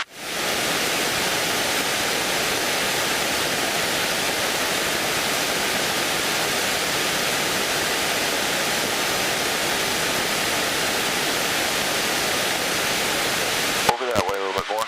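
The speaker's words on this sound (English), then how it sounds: "keep the river just off to your right here" A river rushes in a steady, loud roar that holds unchanged throughout, with a brief clatter close by at the very end.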